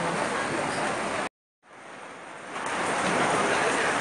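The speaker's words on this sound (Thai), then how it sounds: "ฝนเริ่มลงหนาเม็ดขึ้นนะคะ" Heavy rain pours near a temple on Sukhumvit Road early in the morning: a dense, steady hiss that cuts out briefly, then returns and builds again.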